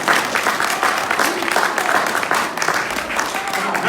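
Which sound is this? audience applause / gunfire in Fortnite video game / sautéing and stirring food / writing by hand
audience applause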